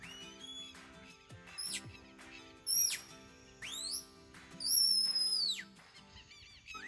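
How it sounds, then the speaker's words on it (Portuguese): Several sharp, high herding whistle blasts for commanding dogs, some rising and some falling in pitch, sounding close against a quiet background hum. "Apitos de pastoreio."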